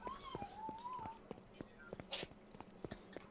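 A cat meows from the Miscreated video game, a wavering drawn-out call over a steady backdrop of ticking clicks and brief noise bursts, fairly faint in the game mix.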